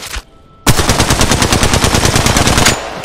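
Alternator submachine gun in Apex Legends firing one sustained burst of rapid, evenly spaced shots, loud and close, after a brief earlier pop and a moment of quiet, then cutting off cleanly.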